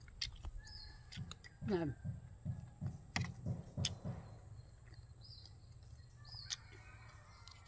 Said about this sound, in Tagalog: Marinig mo yung mga huni ng mga ibon.